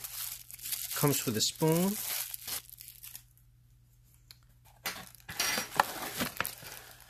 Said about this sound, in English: So we just crack this open right now just to see what we got.